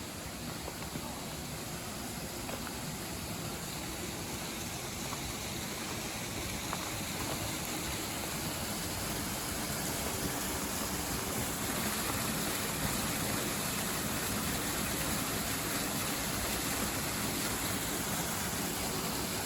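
Water rushing steadily along a small creek and a wooden water flume at Mingus Mill, a turbine mill in the Smoky Mountains, a close, continuous broadband wash with no pauses.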